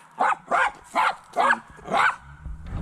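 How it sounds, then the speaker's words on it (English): A dog barks five times in a steady rhythm, each bark loud and close, during a walk in Dallas, followed by a low rumble of background noise. "Don't only bark, don't bite."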